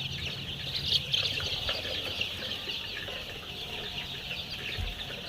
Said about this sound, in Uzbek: Mana aka jo'jalarimiz mana shunaqa.